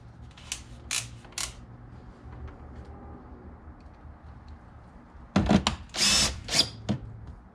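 Power drill driving glove box mounting screws in a 1967 Corvette: a few short close whirring bursts at the start, a quiet pause, then a louder cluster of longer drilling runs near the end.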